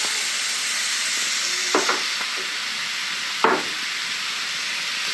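White mushrooms and yellow onion fry in a pan with a soft, continuous sizzle, broken by two brief scraping stirs near the middle; no one speaks.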